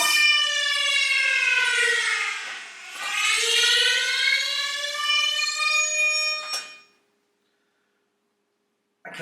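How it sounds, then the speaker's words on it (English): A loud wailing simulated audio alarm siren from a Barix system sounds continuously, dipping briefly before rising again, then cuts off abruptly into silence with a faint click at the end. "an alarm went off."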